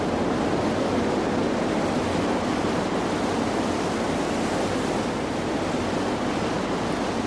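Small waterfall at Kvikkjokk, a steady, dense rush of falling water that holds an even, full roar throughout with no voices or breaks.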